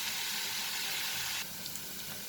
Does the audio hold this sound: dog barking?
no